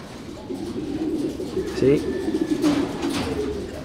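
Racing pigeons coo softly in a loft, low throaty calls repeating at moderate distance over a steady background hum, with a brief spoken word from a person.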